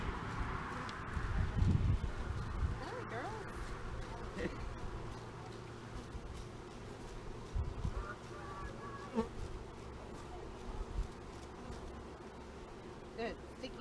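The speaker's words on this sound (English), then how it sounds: "You can see them bees that went down in there." Packaged honeybees buzzing steadily during installation into a hive with honeycomb, a soft continuous hum with faint rustling and brief handling noises, at low volume throughout.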